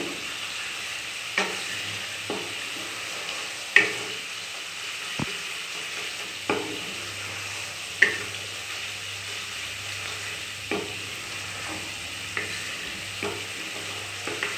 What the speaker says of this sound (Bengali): কষবো যতক্ষণ না এটা তেল ছাড়ছে।